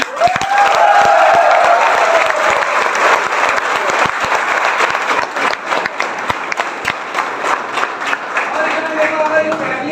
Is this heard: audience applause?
yes